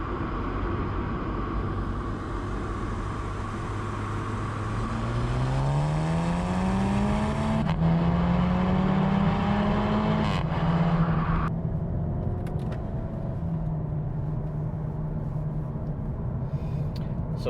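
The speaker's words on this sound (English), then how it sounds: "so let's get this beast started up and go for a drive." A VW Golf GTI TCR engine starts and idles, then revs steadily upward through rising tones as the car pulls away and shifts, staying close and prominent without talk.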